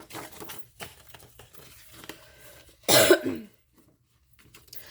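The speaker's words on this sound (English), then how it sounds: "I have this cough that I just cannot get rid of." A single sharp, harsh cough bursts out close by, set against quiet rustling and faint crinkling beforehand, then near silence.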